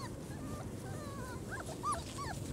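A puppy outdoors gives a run of thin, high whimpers and yips, close but fairly quiet over low background rumble, with no talking.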